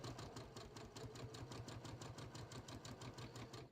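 A sewing machine stitches along the seam allowance of a pants front pocket, running a quick, even, steady rhythm of needle strokes, close and alone.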